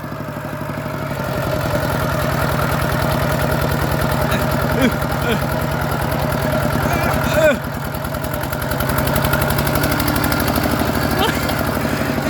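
A walking tractor engine runs loudly close by, a steady chugging idle that revs briefly and settles again, with people talking over it.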